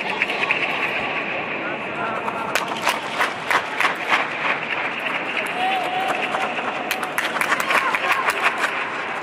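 Hand clapping inside the Gol Gumbaz dome in Vijapur, many claps ringing and overlapping in a long reverberant wash, with voices and crowd murmur throughout.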